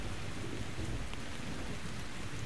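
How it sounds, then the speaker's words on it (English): Steady rain in a video game, a dense even hiss of falling water with a low rumble beneath, continuous and fairly loud with no voices. "Hey, why is it raining?"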